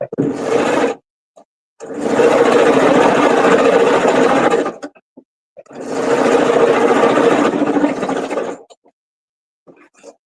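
A sewing machine stitches a fabric tire piece for a pumpkin truck in loud, fast runs, a short burst followed by two longer bursts of about three seconds each, separated by quiet pauses.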